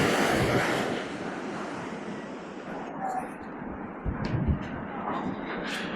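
North Sea surf breaking on a beach lined with wooden stakes at the seaside resort of Hornsea, a broad, steady wash of waves with wind noise over the microphone and a few louder surges.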